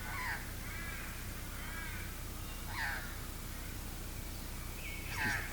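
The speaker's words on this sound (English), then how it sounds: "He's listening to the magpies that are chatting out to our left." Magpies on Kangaroo Island give three harsh, rasping calls spaced a few seconds apart, moderately near, over a quiet outdoor background of faint rustling.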